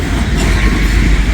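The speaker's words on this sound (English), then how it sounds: "Big heavy grain train." A heavy grain train rumbles past close by, a loud, steady low roar of rolling cars with faint wheel noise over a brief stretch.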